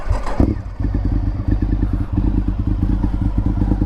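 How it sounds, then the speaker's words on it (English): A Honda RC51 SP2 999cc V-twin motorcycle cranks briefly, then fires up and settles into a loud, close, lumpy idle with a steady throbbing pulse. "Starts up. We'll blip a throttle."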